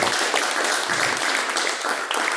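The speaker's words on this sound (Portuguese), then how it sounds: "as palmas que louvam o nome de Jesus" A church congregation applauds in praise, a dense, sustained wall of clapping filling the room, loud and continuous from start to end.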